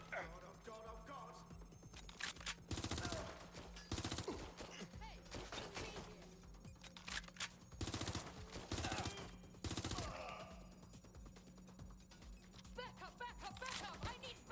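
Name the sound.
gunfire in Watch Dogs: Legion video game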